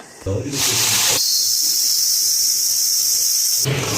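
Black kavuni rice, urad dal and moong dal dry roasting in a pan, giving a steady bright sizzling hiss with brief low scraping at the start and end.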